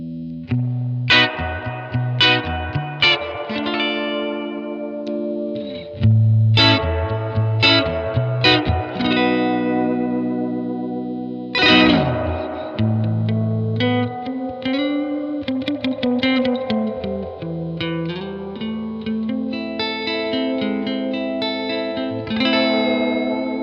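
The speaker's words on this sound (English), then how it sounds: "It's more of a cavernous style reverb." Clean plucked melodic phrases and chords washed in a deep, cavernous reverb, notes ringing out and smearing into a long sustained tail, loud and steady with no voices.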